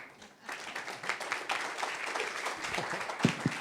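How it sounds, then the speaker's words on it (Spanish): Applause from a conference audience opening a panel talk in a debate on drug policy and marijuana, a steady spread of clapping that rises after a quiet start and carries on at moderate level with a few louder claps near the end. "Les pido por favor un aplauso para iniciar la ponencia."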